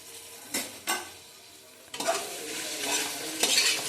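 Green chillies fry for biryani in a pan, with a few scraping stirs and soft clinks over a low sizzle, then a steadier, louder hiss of frying toward the end.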